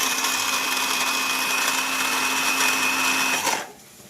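A Black & Decker electric coffee grinder grinding pepper hums with a steady, high motor whine, then cuts off abruptly, leaving quiet room tone.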